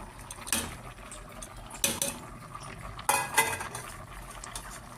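Malunggay leaves going into a covered cooking pot, three distinct metallic clanks of utensils against the pot amid soft stirring and a low simmer.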